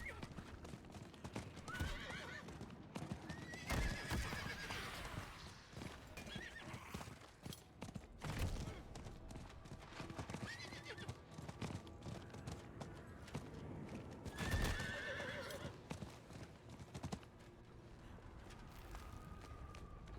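Horse hooves clip-clop in a steady gait with several whinnies and neighs from a steed in a video game, over continuous game ambience, with a player's voice talking at times.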